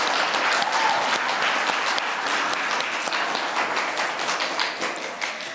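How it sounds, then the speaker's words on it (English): A school concert and awards night audience applauds a co-teacher, dense steady clapping from a crowd that holds for several seconds and eases slightly toward the end, with no talk over it. "Let's give Miss Christina a round of applause"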